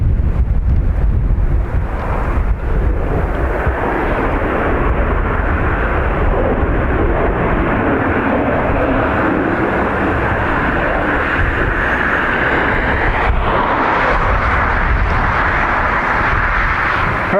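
CRJ jet taxiing at Dublin Airport, a loud continuous engine roar and whine heard outdoors with heavy wind buffeting the microphone throughout.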